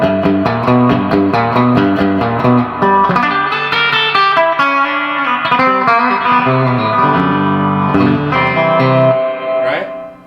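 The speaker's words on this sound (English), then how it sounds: "this is a long spring reverb, a long tank" Distorted electric guitar chords ring out through a long, splashy spring reverb tank on a Magnatone amp, each note trailing a washy echo; loud and continuous, fading at the end.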